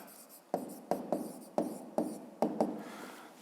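A pen writes by hand on paper during a Ukrainian fifth-grade maths exercise, with a series of short scratchy strokes and taps, close and quiet, irregular in rhythm, with no talk over them.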